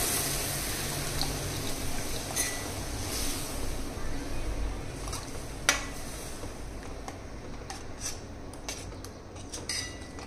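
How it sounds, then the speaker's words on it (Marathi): Warm water is poured into a pan of sautéed drumstick pods for a Maharashtrian drumstick curry, giving a steady, soft splashing wash with a few faint clinks of utensils across the whole stretch. "त्यामध्ये आपण गरजेनुसार पाणी ॲड करणार आहोत आणि हे पाणी कोमट करून घेतलेलं आहे"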